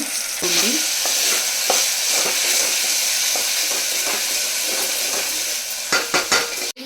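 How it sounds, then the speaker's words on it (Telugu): Ground spice paste sizzles in a pan for wheat rava pulao as a spoon stirs it in quick, scraping strokes. A few sharp clinks of utensil on metal come near the end. "మనం పేస్ట్ చేసుకున్నాం కదా మా స్పైసెస్ అన్ని యాడ్ చేసి, ఇప్పుడు అది కూడా వేసేసుకుంటున్నాను."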